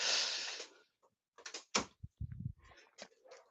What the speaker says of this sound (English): I need to close my door.